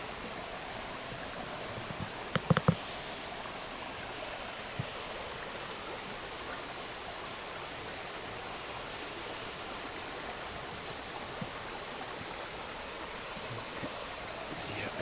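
A stream and small waterfall in Mount Tamborine National Park rush steadily in the rain, a constant broadband wash throughout with a few brief knocks early on.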